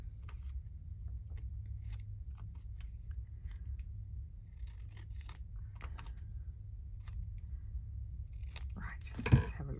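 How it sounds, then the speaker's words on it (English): Scissors snip out a book page in a series of close, crisp cuts at an uneven pace, with a louder rustle of paper at the end and faint background noise. "I'm going to cut it out because sometimes I can't see it properly"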